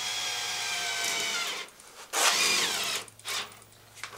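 A power drill whirs steadily, pauses, then revs in short bursts as it drives a masonry screw, close and loud with no talking.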